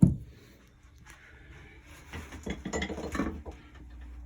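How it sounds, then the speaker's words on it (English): A wrench tightens a scupper valve drain inside a 2008 Yamaha 212SS jet boat, making several short metallic clicks and scraping turns that grow louder toward the end, with no talking. "use my sophisticated wrench on the inside to tighten up, and then I'll shove this in the outside of the scupper"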